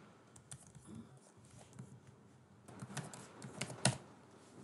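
Computer keyboard keys clatter in short, uneven bursts of typing in Microsoft Word, sparse at first and then quicker and denser, with no one speaking.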